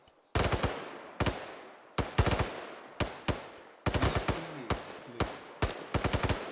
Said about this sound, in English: Starting suppressing fire. Open fire.